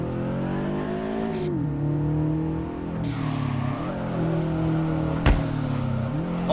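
Subaru BRZ boxer engine in the Drift21 video game, revving up and down repeatedly in loud, close bursts with a sharp backfire pop near the end.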